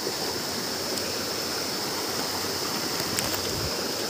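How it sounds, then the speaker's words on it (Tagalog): River water rushes steadily through a forest, a loud, even wash of flowing noise that continues unbroken with no voices. "papasok na tayo dito sa ilog. At dadaan nga tayo dito sa mga tubig."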